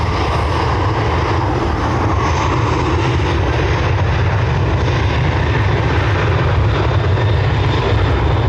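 A 13-year-old Ryanair Boeing 737-800 takes off from Dublin's runway 10R bound for Bologna, its jet engines producing a continuous, powerful rumbling roar that stays steady and prominent without speech.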